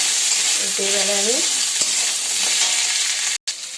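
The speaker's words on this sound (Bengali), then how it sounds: "আলুগুলো দিয়ে দিয়েছি, এবার একটু ভালো করে ভেজে নেব।" Potatoes fry in a pan with a steady, loud, close sizzle while being stirred, a short voice briefly speaking over the hiss and a clatter near the end.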